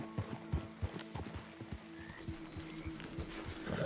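Horse hooves clip-clop in a steady, fairly close rhythm in the video game Red Dead Redemption, with a faint tonal in-game background.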